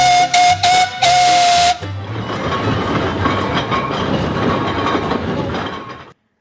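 An old steam road roller at a steam rally sounds its steam whistle in several loud, sharp blasts, the last one held. Steady hissing and mechanical rumble follow, then cut off.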